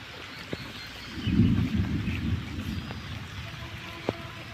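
Rain falls in a village as a soft, steady patter, with a low rumble swelling briefly in the middle and a few faint sharp knocks.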